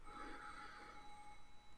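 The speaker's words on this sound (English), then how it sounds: "The continued ringing of the phone made her headache throb even more strongly." A telephone bell rings steadily and faintly in a quiet room, a continuous ringing tone sustained for the whole short stretch with no voices over it.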